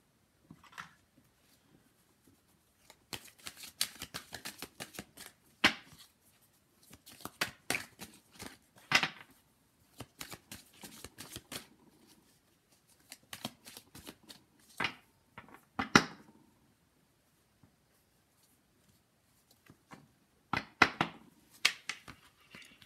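Tarot cards are shuffled by hand for a new reading, crisp riffling and slapping bursts that come in uneven clusters separated by short pauses, close and fairly quiet, with no voice.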